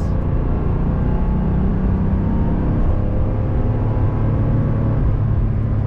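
A vintage air-cooled Porsche 911 engine runs in a steady, loud, throaty drone with a continuous low rumble and no break, heard from close by without any talking.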